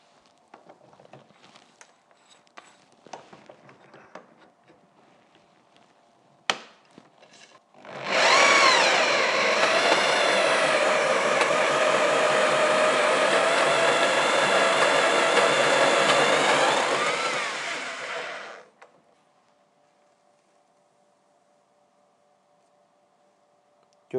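An oversized corded drill spins a grain mill crushing malt for home brewing, a loud steady whirring grind lasting about ten seconds before winding down, preceded by faint handling clatter and a sharp knock.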